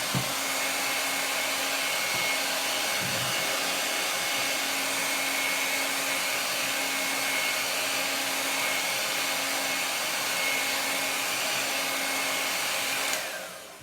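A hair dryer blows steadily on a chalk-paste craft project for about thirteen seconds, a constant loud whoosh with a faint whine that cuts off abruptly at the end.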